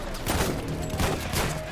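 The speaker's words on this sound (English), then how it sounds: "Gunfire in the air, grenade." Rapid bursts of gunfire crackle through a dense, noisy battle mix, with a heavier blast standing out amid the steady din.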